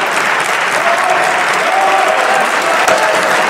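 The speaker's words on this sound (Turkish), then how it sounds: "İktidar sıralarından alkışlar gelir" Loud, continuous applause comes from the ruling party benches in a parliament chamber, with many hands clapping together in a thick, unbroken roar and a faint crowd murmur underneath.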